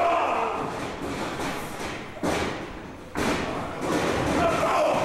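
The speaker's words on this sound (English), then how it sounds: "Listen to those nuclear biceps slamming into Shaun Martens" Heavy punches and a lariat land in a professional wrestling ring, giving several loud thuds and slams at irregular intervals over a constant crowd roar.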